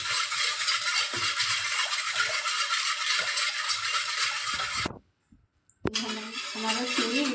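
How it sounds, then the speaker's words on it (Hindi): A spoon stirs sugar into cool water in a glass, giving rapid continuous clinking and scraping against the glass. The stirring stops briefly near the end, followed by a single clink before it resumes more softly. "इसे अच्छा तरह चीनी पहले मिक्स करेंगे।"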